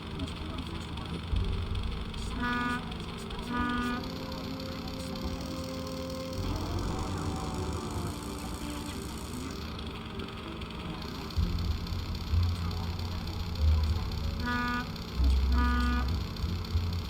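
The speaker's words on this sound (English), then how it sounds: "Well, there's like traffic noise." Steady city traffic rumbles through a Nancy Drew video game scene while car horns honk in pairs of short blasts near the start and again near the end, and voices come through faintly.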